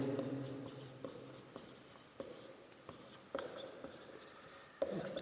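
Chalk or marker strokes on a board during a Class 10 physics lesson on series and parallel resistors, with short scratchy taps and scrapes at an uneven pace, close and fairly quiet, with no talking.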